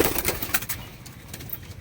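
Pigeons in a loft of Chennai, Madras and Andhra Madras breeds coo close by in soft repeated calls, with faint rustling around them.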